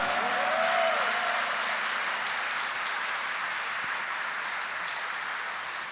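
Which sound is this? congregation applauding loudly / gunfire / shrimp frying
congregation applauding loudly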